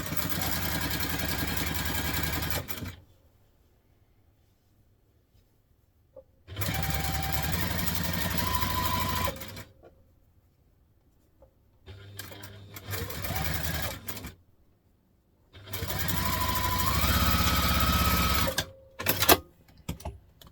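Sewing machine top stitching a contemporary hobo bag, running in steady whirring bursts of several seconds separated by pauses, close up with no talk.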